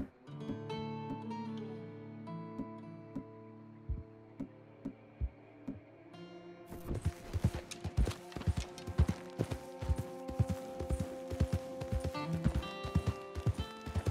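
Horse hooves in Red Dead Redemption 2: after a quiet stretch of music, a rapid galloping clip-clop of hoofbeats kicks in and runs steadily to the end, fairly close and prominent.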